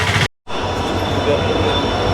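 Madurai train arriving at Sengottai railway station, a steady rumbling roar of rolling stock close by, broken by a brief dropout early on, with a faint high tone running through it.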